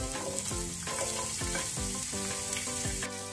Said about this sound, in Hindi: ऑयल गरम जातूच आमी घालुया जिंजर आनी गार्लिक